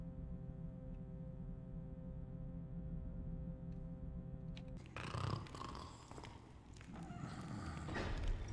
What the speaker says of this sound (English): I thought I heard someone else snoring.